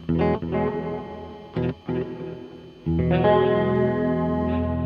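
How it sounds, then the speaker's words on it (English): Electric guitar chords through a delay pedal's chorus and built-in reverb ring out with a lush, shimmering 80s wash, a few short stabs first, then a long sustained chord swelling into space. "Get that 80s chorus going, but let's add a little bit of reverb"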